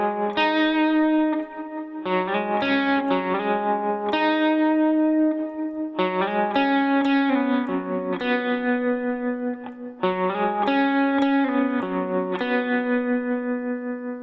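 A distorted electric guitar plays a part of a song slowly, with ringing chords, slides between positions, and a steady, loud, sustained tone that repeats in phrases.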